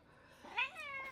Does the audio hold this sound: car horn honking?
no